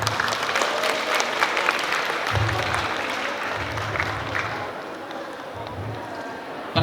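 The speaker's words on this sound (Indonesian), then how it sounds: "Tepuk tangan untuk SMK." Lively applause from a school audience of vocational students at a motivational event, sustained clapping with a few thumping accents that gradually thins out toward the end.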